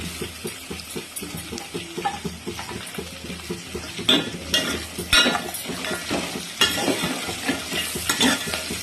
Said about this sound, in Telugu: వీటన్నిటిని కొంచెంసేపు బాగా ఫ్రై చేసుకున్నాం